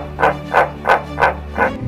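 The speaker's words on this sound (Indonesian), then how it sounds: "Yang pertama, katak dumpi." A dumpy tree frog, the Australian and New Guinean green tree frog, calls five times in an even rhythm, each a deep, loud, barking croak close by with no talk.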